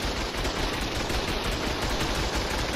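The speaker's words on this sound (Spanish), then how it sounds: "esto nos acaba de venir a tiros, Normal, son automáticas." Automatic turret fire in the PvP video game ArkLegion comes as a dense, continuous rattle of rapid gunshots, loud and unbroken throughout.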